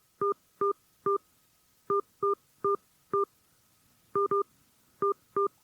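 A telephone keypad sounds out a credit card number in DTMF tones, eleven short, clear beeps in uneven clusters with brief pauses between them, close and alone.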